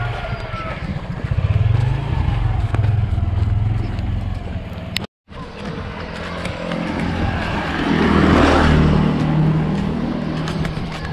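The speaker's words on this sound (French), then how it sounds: "il y a un scooter qui passe ici" A scooter passes along a road in Indonesia, its engine rising to a close, loud pass and then fading, over outdoor background noise.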